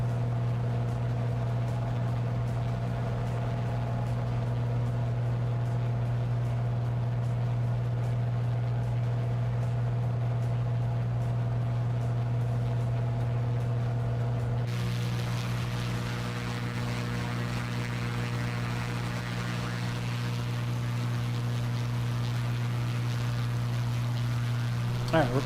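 Aircraft engine in Microsoft Flight Simulator 2024, a steady, droning hum that continues throughout and shifts in tone partway through, with a person talking over it.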